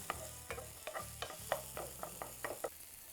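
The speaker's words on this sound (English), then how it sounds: "we're just gonna saute these onions until they become nice and translucent" Onions sauteing in a pan, a steady sizzle broken by about nine rhythmic scraping strokes from stirring, close and fairly quiet with no talking.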